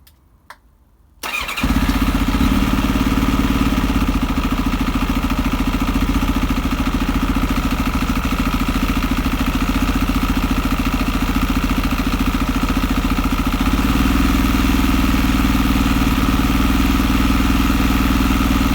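Kawasaki ZX7R motorcycle engine with the choke partly on starts up after a brief quiet moment, then settles into a loud, steady idle that runs evenly to the end with a slight shift in tone near the close.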